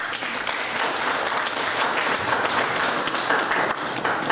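An audience at an academic symposium claps warmly, a dense, even burst of applause filling the whole room from start to finish without a break.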